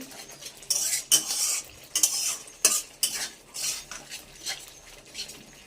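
A spice paste being cooked down in a pan for a pointed gourd curry: a utensil scrapes and clinks against the pan in repeated strokes over a soft frying sizzle.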